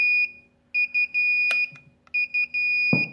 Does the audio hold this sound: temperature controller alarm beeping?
yes